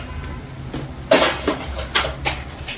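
Cooked rice scooped and transferred into a cooking vessel, a handful of sharp metallic scrapes and clinks of a spoon against the pot, spaced irregularly over a quiet kitchen background.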